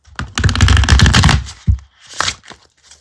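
A plastic tarot card deck being shuffled by hand: a dense riffling burst of flicking cards, then a few separate slaps and taps as the deck settles, close and fairly loud with no talking.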